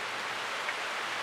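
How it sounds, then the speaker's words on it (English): Rain falls as a steady, soft, even hiss that stays faint and constant throughout, with no voices. "I can hear the rain."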